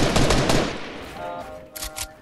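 Burst of rapid gunfire in a Fortnite match, loud and dense at first and then fading, with a few sharp shots trailing off near the end.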